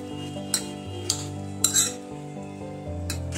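A spoon stirs chopped chilli, tomato and salt in a pot, sharp metallic clinks at irregular intervals over a faint steady background hum, close and fairly quiet, without speech.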